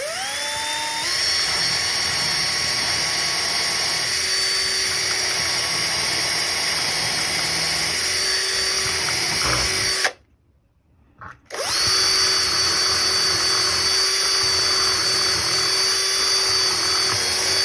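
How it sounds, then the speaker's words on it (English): A power drill bores holes through a sinker cypress charcuterie board guided by a doweling jig, whining steadily and loudly, cutting out briefly, then spinning up again. "Drill both holes."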